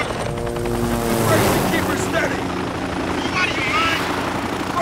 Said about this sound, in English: We're in a helicopter fight.